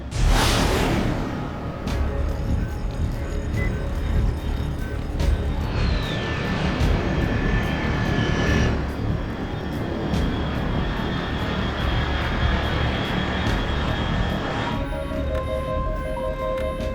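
Aircraft flying overhead in Metal Gear Solid Delta: Snake Eater, a loud engine roar that sweeps in at the start and holds steady as a broad drone, with faint tonal whines layered on top.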